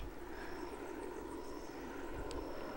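A police helicopter circles overhead at a distance, its engine drone steady and continuous, fairly faint against background noise.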